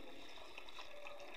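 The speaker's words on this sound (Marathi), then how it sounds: "आता आपण याच्यामध्ये पाणी ओतून ठेवूया" Water poured over washed rice soaked for idli batter, a steady close splashing and running-liquid wash with no voices.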